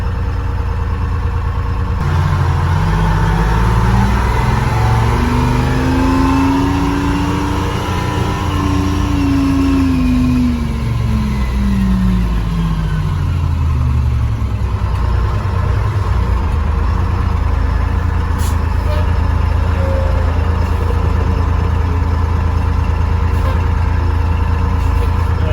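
Detroit Diesel heavy fire truck engine running loud and steady, revving up and back down in a long smooth sweep before settling into a constant diesel drone.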